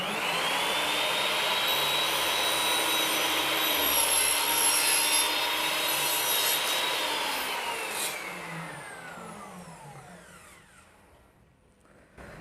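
A Ronix 10-inch sliding miter saw makes a crosscut through wood, its motor whining loudly and steadily while the blade bites, then spinning down with a falling pitch as it coasts to a stop.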